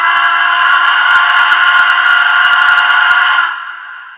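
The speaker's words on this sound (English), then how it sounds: "then you have the whistle" A Rivarossi Union Pacific Big Boy model steam locomotive sounds its whistle in one loud, sustained chord-like blast for about three and a half seconds before it cuts off and fades.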